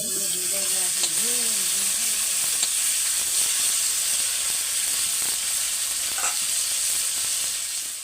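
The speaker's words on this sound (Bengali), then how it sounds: "এইভাবে মাছটা ভাজবেন।" Fish pieces frying in hot oil in a pan, a steady close hiss and crackle of sizzling throughout, with a few brief voice-like tones at the start and occasional clinks.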